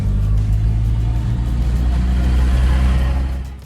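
A pickup truck hauling a half yard of bulk garden soil drives along, its engine a steady loud drone throughout that fades slightly at the end.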